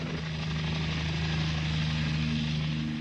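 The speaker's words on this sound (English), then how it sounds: "The draft from the copters swirls the deadly spray downward, smothering every inch of every twig." Helicopter spraying 2,4,5-T herbicide, a steady heavy rotor drone with a low pulsing thrum, continuous and fairly close.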